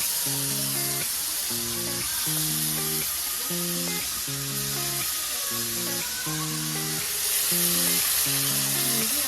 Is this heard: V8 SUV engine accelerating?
no